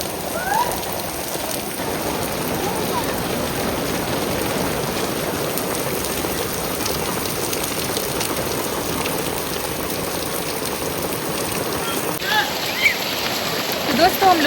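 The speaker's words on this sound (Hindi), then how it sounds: "बारिश बहुत ही तेज़ हो रही है" Heavy rain pours steadily on surfaces in a village during a downpour, a dense, even hiss that lasts throughout with no gaps.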